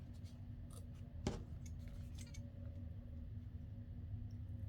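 Scissors trimming paper for a Christmas matchbook notepad craft: one crisp snip stands out, followed by faint rustles and small cuts over a low steady background hum.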